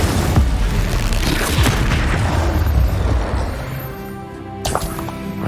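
Spell impacts from a Hogwarts Legacy battle, with a quick run of booming blasts, crackling crashes and thwacks packed close together, then fading into softer sparkling tails and a final smaller hit.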